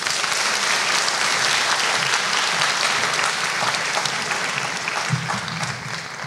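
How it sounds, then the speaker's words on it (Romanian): A large audience at a university chemistry graduation ceremony claps in sustained, dense applause, loud and continuous throughout and easing slightly toward the end. "încă o dată vă invit să o aplaudați"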